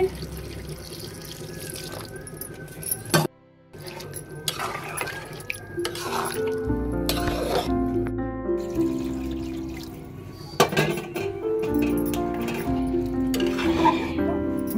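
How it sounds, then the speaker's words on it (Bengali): Warm water is poured into a pot of braised chicken, a splashing, gurgling flow with clinks of cookware, broken by a brief pause, then more pouring and stirring close by. "এখন আমি পানি দিয়ে দিব। যেহেতু শীতের দিন পানিটা গরম করে নিয়েছি।"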